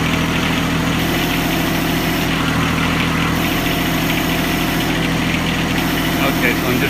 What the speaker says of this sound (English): I'm just operating the hydraulics on that, and it works